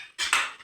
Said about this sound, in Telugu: ఇంకా బాగా మూత పెట్టు మగ్గని ఒక 2 నిమిషాలు.